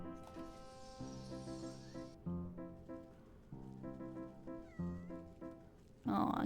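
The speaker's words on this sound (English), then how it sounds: "Aw, kitty." A cat in the video game Wytchwood gives a series of short, clear meows over gentle game music, several cries spaced across the stretch, ending in a brief burst of louder noise.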